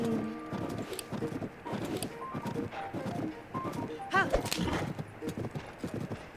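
Horse in Zelda Tears of the Kingdom game trotting with steady rhythmic hoofbeats, with a brief whinny partway through and speech over it.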